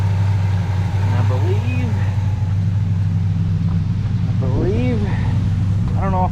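A 1975 Chevrolet C20 pickup engine runs steadily just after a new power steering pump is fitted, a loud low rumble with a faint whine rising over it and a person speaking briefly.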